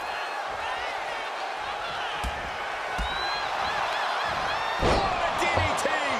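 A body-slam impact from a DDT in the WWE 2K25 wrestling video game, landing as a heavy thud over steady arena crowd noise, with commentary talk throughout and a few smaller thumps around it.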